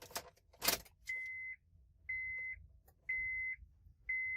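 A valet key goes into the ignition of a 2003 Honda Accord with a brief jangling rattle and click. A steady electronic chime then repeats four times, about once a second, in an otherwise quiet car.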